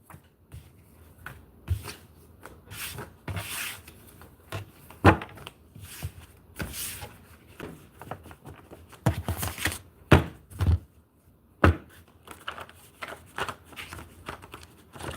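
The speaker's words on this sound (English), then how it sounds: "I'm just shuffling, splitting the deck, and I'm just picking up the cards and showing you." A deck of cards being shuffled and split by hand, giving irregular bursts of riffling and sharp slaps spread across the stretch, fairly close with a faint background hum and no talk.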